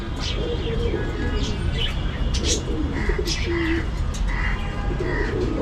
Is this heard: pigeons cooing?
yes